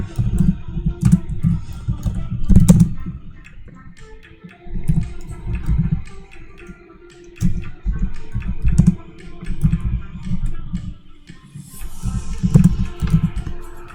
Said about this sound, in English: I just gotta type.